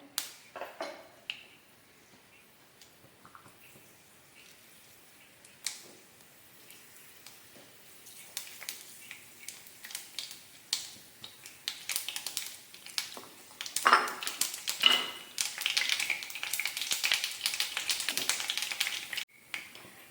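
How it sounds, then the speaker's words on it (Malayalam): Mustard seeds and fenugreek splutter in hot oil for pickle making, sparse faint pops at first building into a dense, loud crackle of rapid snapping toward the end. "ഇത്തിരി കടുക് ഇട്ട് പൊട്ടിക്കുന്നേ"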